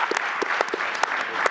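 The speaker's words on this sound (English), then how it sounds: "let's give it another round of applause for this dynamic panel" Audience applause for a dynamic panel at a fireside chat event, a steady, dense patter of many hands clapping at close range, continuing through the whole short stretch with no talk.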